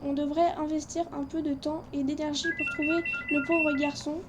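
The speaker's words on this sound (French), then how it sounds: "En fait, c'est mon téléphone qui a sonné" A mobile phone ringtone chimes in a short repeating electronic melody, rising from the background in the second half, while a man keeps reading aloud in French over it.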